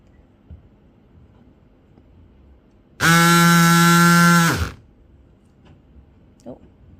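RAPIDCUT GX04 cordless electric scissors cut along a zigzag line, a single buzzing motor whine lasting under two seconds that starts and stops abruptly, with quiet room noise before and after.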